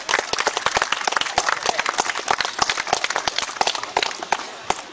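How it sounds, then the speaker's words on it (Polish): An outdoor audience at a family medieval picnic in Radziechowy gives a burst of lively clapping to welcome a team of reenactors, many hands beating quickly and unevenly throughout, close and steady with no voices over it. "Możecie nawet oklaskami przywitać drużynę"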